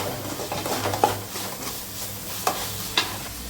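A spoon stirs noodle sauce made with tomato ketchup and soy sauce in a pan, under a steady low sizzle. A few distinct scrapes and knocks against the pan stand out over the frying.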